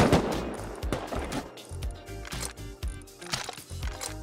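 Rapid gunfire in the survival video game Rust, repeated bursts of shots in quick succession with echoing tails, loud and continuous throughout with no talk.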